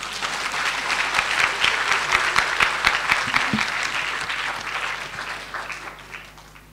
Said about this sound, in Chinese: 大家给她鼓掌一下。